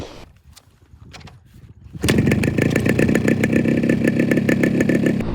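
A Yamaha RXZ two-stroke motorcycle engine starts up with a burst and settles into a loud, raspy, steady running note, close by, after a few seconds of quiet shuffling.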